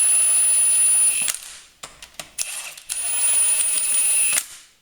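A Milwaukee power tool runs bolts down on an engine block during short block reassembly, with high-pitched whirring bursts broken by short pauses and sharp clicks, close and loud.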